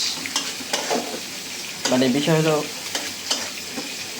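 Food frying in a pan at home, a soft sizzle punctuated by a few stirring scrapes and clinks, heard close, while a person speaks briefly over it.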